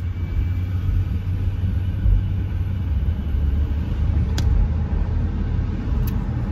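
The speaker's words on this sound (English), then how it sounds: "damn, this bus just gonna come over?" A bus passes close by in morning commuter traffic: a steady, loud low rumble of engines and road noise with a slight swell as the vehicle goes by, plus a couple of brief sharp clicks.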